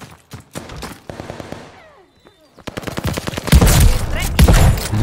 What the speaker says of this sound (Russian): Во, это такой мощный дробаш какой-то, да?